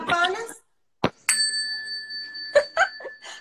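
A feng shui bell rung indoors gives a clear metallic ding with a long, ringing sustain, heard between short bursts of speech.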